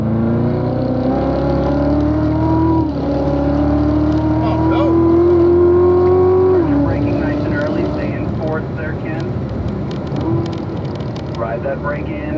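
A race car accelerates hard out of a corner at Ron Fellows track, the engine note climbing steadily in pitch before a shift and a rougher, strained roar, loud and continuous throughout, with no one speaking.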